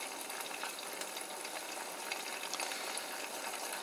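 Eggs fry in butter on a pan, giving a steady, close crackling sizzle with fine spattering pops throughout, with no talk over it.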